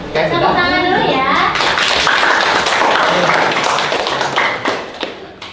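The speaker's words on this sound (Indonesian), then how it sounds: "Tepuk tangan dulu ya." Classroom applause after a group's trigonometry presentation, dense close clapping from many students filling the room for several seconds before it thins out and fades near the end.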